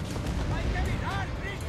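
Pirate ship cannons firing in a video game, several quick booming shots in succession, close and moderately loud, with a voice shouting over the volley.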